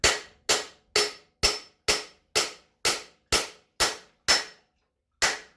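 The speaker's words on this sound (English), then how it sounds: "I can drive directly into the bearing race. And there'll be a different sound once it bottoms out." Bearing race being driven into a Yamaha Road Star wheel with a hammered driver: ten sharp, evenly spaced metallic strikes, then a pause and one final blow, loud and close with no talk.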